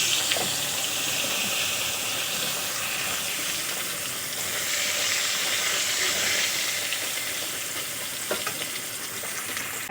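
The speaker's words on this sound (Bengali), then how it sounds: "এখন আমি মাছ ভাজা তেলের মধ্যে আলুগুলো ভেজে নেব।" Long-cut potatoes fry in oil left over from frying fish, producing a loud, continuous sizzle with faint stirring clicks throughout and no voices.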